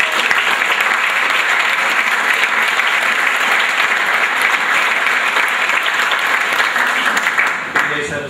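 Sustained, loud applause from a seated banquet crowd honoring senior athletes at a school sports banquet, a thick wash of clapping holding steady throughout with faint voices mixed in.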